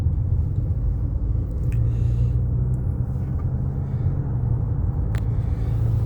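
A car engine rumbles steadily from inside the cabin as the vehicle drives along a road in Kuwait, a constant low drone with faint occasional ticks and no talk.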